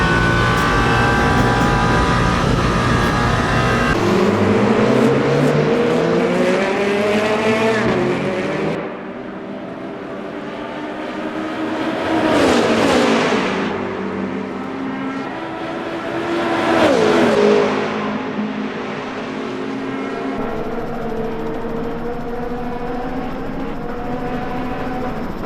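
Race cars in the Le Mans Ultimate sim, including a Porsche Penske prototype, howl through the 24 Hours of Le Mans, with loud engine notes rising and falling as cars shift and pass one another.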